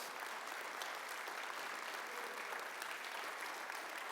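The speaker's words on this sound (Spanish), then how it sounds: "Denle un aplauso al Rey de Reyes" A church congregation applauds during a Spanish-language service, a continuous, even roar of many hands clapping together at moderate loudness with no pauses.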